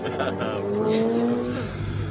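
A Ferrari 488 Challenge Evo race car doing donuts at a Montreal race, engine revving with tire squeal rising under a commentator's talk.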